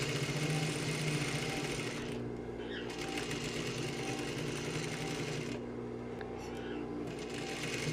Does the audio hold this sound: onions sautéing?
no